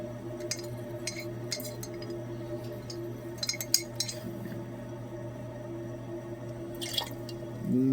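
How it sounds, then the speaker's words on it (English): Distilled water is swirled and dripped in glassware, giving soft scattered drips and faint glassy clinks over a low steady hum, quiet and close. "I'm going to give this a nice distilled water rinse as well"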